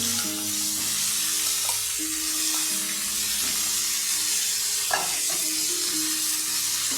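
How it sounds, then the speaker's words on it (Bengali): Fried cauliflower pieces for Gobi Manchurian go into a pan on medium-high flame, giving a steady close sizzle with faint scraping and stirring knocks. "এখন আমি তাতে দিয়ে দেবো যে ফুলকপি ভাজা করে রেখেছি"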